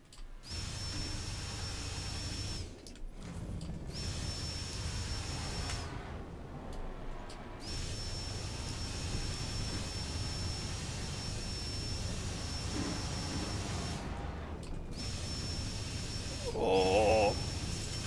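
An F/A-18 Hornet jet engine roars steadily in a video game dogfight, a loud continuous rushing drone with a few brief dropouts and a short higher-pitched tone near the end.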